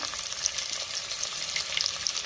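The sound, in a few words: onion added to hot pan, sizzling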